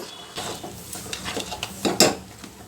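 Lentils and jaggery being stirred in a pan over a medium flame until the jaggery melts, with soft scraping and clinks of a spoon against the pan that build to a louder scrape near the end.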